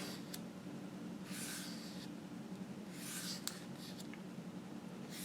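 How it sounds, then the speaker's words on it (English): A Sharpie marker dragged along cut lines in craft foam for wood floor tiles, giving several soft, close, hissing rubs over a steady low hum. "take the Sharpie and just drag it through those lines that we cut to further define them"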